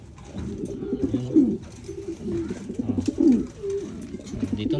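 Repeated throaty pigeon coos, close and clear, in rolling bursts of a second or so separated by short pauses, during pigeon recall training.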